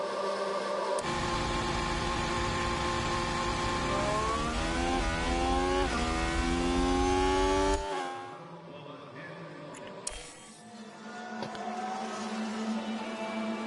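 Formula 1 car engines in the F1 Manager 2022 video game, at the Baku circuit, whine and rev upward through gear changes for several seconds, then cut off, leaving quieter background hum and a few clicks.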